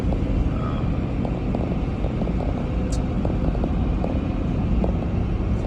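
Car driving with steady road rumble and wind noise, a dense low roar continuous throughout with faint ticks and one brief high squeak, no talk.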